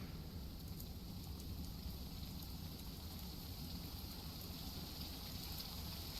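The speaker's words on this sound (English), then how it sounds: "Hear the rain?" Steady rain hiss falling continuously, with a low rumbling patter underneath and faint high-pitched tones; constant level, no voices.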